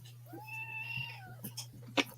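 A single pet cat gives a drawn-out meow, close and fairly quiet, followed by a few soft clicks and rustles against a low steady hum.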